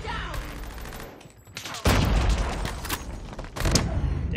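Rapid bursts of PPSh-41 submachine gun fire in a video game's ranked match, dense and loud, with a sharp booming onset near the middle and another heavy burst toward the end.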